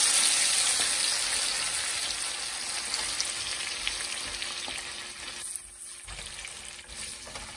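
Green salsa poured into a pan of pork ribs, bursting into loud, steady sizzling and bubbling close up, dropping briefly before the frying continues more softly.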